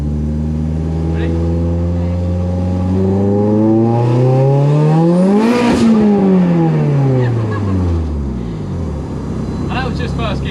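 A 431bhp Ford Fiesta accelerates hard in first gear, its engine note climbing steeply in pitch to a loud peak before dropping away as it shifts, heard up close from inside the car.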